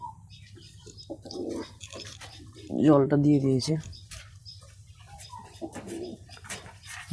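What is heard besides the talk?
pigeons cooing while drinking water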